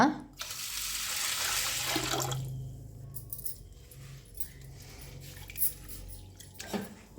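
Rice and toor dal are washed in water, opening with a loud splash and pour, then settling into softer swishing, squishing and drips nearby, with faint voices underneath.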